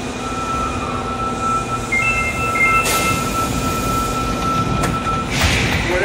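An Osaka Metro Midosuji Line train rolls into Shinsaibashi station with a steady rumbling roar, brief squeals and hisses rising over the constant noise near the end.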